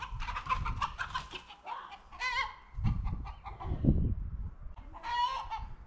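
Chickens being chased by a herding puppy cluck and squawk in agitated bursts, close and loud, mixed with low thumping and scuffling, and no speech.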